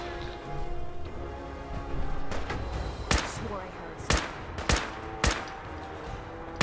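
Several sharp, separate gunshots from Fallout 4 gameplay ring out at irregular intervals over a continuous ambient game rumble, with talk over the top.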